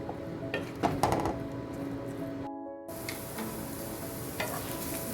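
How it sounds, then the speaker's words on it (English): A plantain and squash mixture is stirred in a pan, producing a soft steady sizzle with light scraping and occasional clinks, quiet and close, briefly cutting out midway before resuming, with no talking. "You're just going to continue to mix until it's done."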